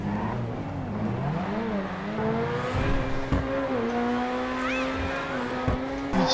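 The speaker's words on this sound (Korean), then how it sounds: "이 차의 매력은 역시나 그로티 특유의 엔진음을 들 수 있는데요" Grotti Itali GTO supercar in GTA 5 revving hard through gear changes, its engine note climbing and dropping in smooth sweeps with a brief tire squeal, loud and close throughout.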